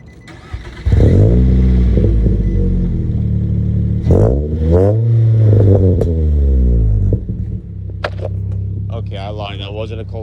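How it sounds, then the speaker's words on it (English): A Nissan Sentra SpecV engine cranks and fires, then revs up and down in several rising and falling sweeps before settling into a steady idle, loud and close. "who doesn't love a nice cold start?"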